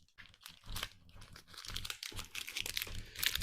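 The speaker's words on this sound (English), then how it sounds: "All right, it's a resealable baggie" A resealable plastic baggie is handled and crinkled in short, irregular bursts of rustling and crackling, fairly close and steady over a few seconds, with no talking.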